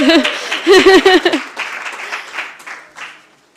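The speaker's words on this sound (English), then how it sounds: "An applause for, for him, please." A pitch competition audience at a startup event gives a short burst of applause for a presenter, fading out within a couple of seconds, with a voice and light laughter over the start.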